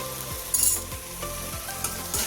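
Spices for paneer bhurji, coriander powder, garam masala and red chilli powder, fry in a pan with a steady crackling sizzle and a few short scraping stirs, close and without talk.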